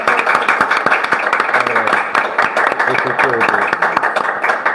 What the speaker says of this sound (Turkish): Sayın Vekilimi şöyle güzel bir alkışlayalım.